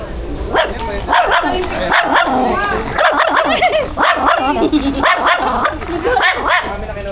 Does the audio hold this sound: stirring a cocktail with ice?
no